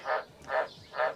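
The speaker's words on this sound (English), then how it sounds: "That tree frog certainly goes off his nut." A tree frog croaks three times in steady rhythm, each call a short buzzy burst about half a second apart, clear and fairly close with no talking.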